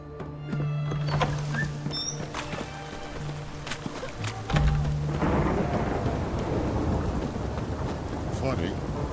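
Rain pours steadily in The Witcher 3 as a thunderclap booms partway through, followed by a dense hiss of rainfall, with a few tonal game sounds early on.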